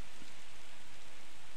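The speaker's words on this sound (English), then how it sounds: "But it's raining anyway." Dense, even hiss of steady rainfall in a video game, continuous and fairly loud, with no voices or other sounds.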